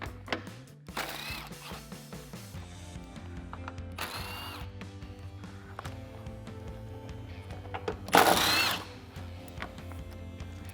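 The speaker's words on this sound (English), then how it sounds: "So I got my 10 socket on my impact gun." Impact gun with a 10mm socket zipping out headlight bolts on a 2009-2014 Ford F-150, three short loud bursts of whirring and rattling hammering separated by quieter handling noises close by.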